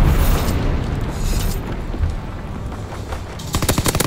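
Rapid gunfire from the Call of Duty WW2 video game crackles as a loud, dense barrage, with sharper bursts of shots near the end.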